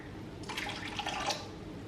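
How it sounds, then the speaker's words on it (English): Half a cup of water is poured while baking lemon and lime bars, a brief quiet trickle lasting under a second against faint room noise, with no talking. "To add to this a half of a cup of water."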